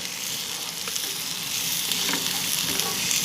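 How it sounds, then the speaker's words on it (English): Onions frying in a dollop of lard in a cast-iron pan on a stove, a steady close sizzle with fine crackles and pops throughout, no talking. "And the crackle and the sizzle."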